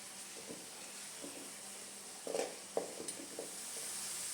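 Curry leaves added to hot oil in a pan for a Kerala-style egg roast give a faint, steady sizzle, broken by a few soft stirring scrapes and light clicks near the middle.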